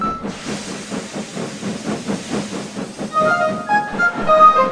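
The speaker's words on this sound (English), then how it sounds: "That tank engine is really something else." A steam tank engine chuffs in a steady rhythm of hissing puffs, close and loud, with whistle-like tones rising near the end.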